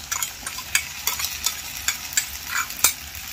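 Stinging nettle greens frying with garlic and chili in a village kitchen pan: steady crackling sizzle with repeated sharp scraping stirs and clacks, close and fairly loud, no voices.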